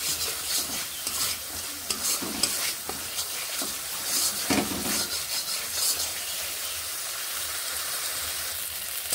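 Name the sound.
spice masala with turmeric being stir-fried in pan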